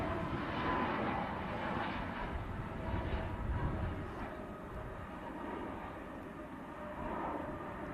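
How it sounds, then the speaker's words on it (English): A TUI passenger jet departs Manchester Airport bound for Hurghada, Egypt, its distant engines a faint, steady broadband rumble that swells gently and then eases over eight seconds. "aircraft heading to Hurghada down in Egypt."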